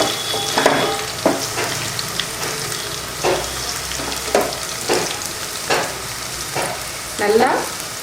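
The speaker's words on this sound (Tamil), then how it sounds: "வெங்காயம் நல்லா வதங்கிடுச்சு" Onions sauté in a pan for vatha kulambu, a loud close sizzle punctuated by about ten distinct scraping stirs of a spatula spaced roughly every second, with no talking.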